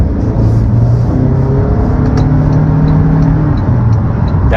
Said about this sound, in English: I started off half throttle, gave it full throttle because I knew it wasn't going to be able to downshift because it has a CVT now